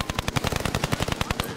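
Rapid automatic gunfire in Call of Duty: Warzone, a fast even burst of sharp shots fired close and loud for under two seconds, with no talking.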